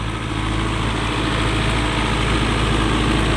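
An MTZ 952 tractor engine runs without load while pulling a deep ripper through a soybean field, giving a steady, loud, low diesel drone with a constant hum that holds throughout.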